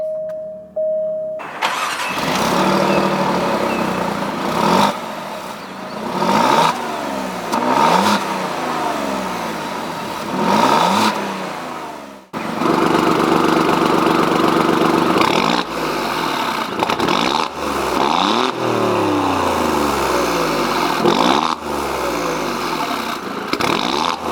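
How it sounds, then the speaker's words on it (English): A 2017 Alfa Romeo Giulia Quadrifoglio engine cranks and fires up, then revs repeatedly, rising and falling in pitch before settling into a rumbling idle. "with my foot on the brake, I can go ahead and start it up."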